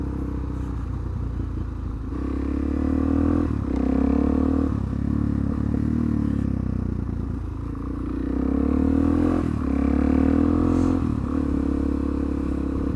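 A motorcycle ridden onto an ordinary road and brought up to speed, its engine droning steadily close by with revs rising and falling in several waves, with no talking.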